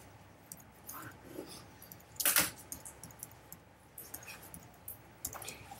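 Keys on a computer keyboard tapped in short irregular bursts, with one louder cluster of strokes, close by and without talk.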